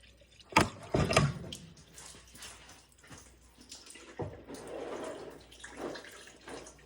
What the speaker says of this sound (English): fill up the radiator till we see it start to dribble out here